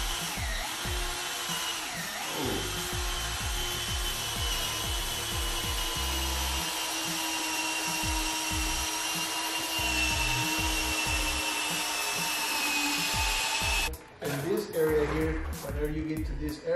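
A car headlight being sanded with 1,000-grit sandpaper on a power tool, a steady whirring grind with rhythmic scrubbing pulses running under conversation, then stopping abruptly near the end.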